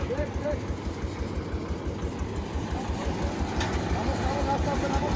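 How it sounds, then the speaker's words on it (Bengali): A Japanese Hino truck's diesel engine throbs in a low, steady rumble as it pulls away, heard at moderate distance with faint voices in the background. "চলে গেল আমাদের গাড়িটা মাগুরা"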